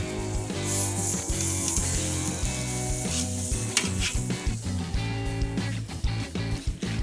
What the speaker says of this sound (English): So arrange the pork steaks on the grate directly over that wood fire.